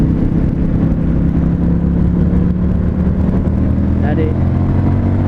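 An Indian FTR 1200 S motorcycle engine drones loud and close as the throttle opens in fifth gear around 4000 rpm, with steady wind rush and a brief spoken word near the end.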